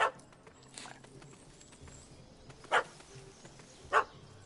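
A dog in The Witcher 3: Wild Hunt gives a few sharp, separate barks, one at the start and two more spaced about a second apart, over a quiet game background.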